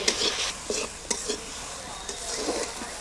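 Vegetables are stir-fried in a pan with turmeric and salt, giving a close sizzle broken by several quick spatula scrapes and knocks.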